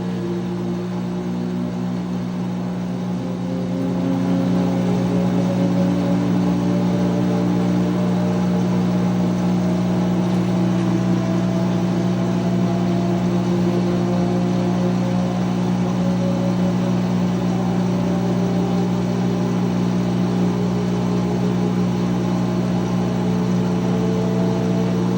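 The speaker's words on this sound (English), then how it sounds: "It's spinning up again." A 2006 GE Profile washing machine spins up, its steady motor hum rising and swelling after the first few seconds into a sustained whirring drone that continues evenly with no speech.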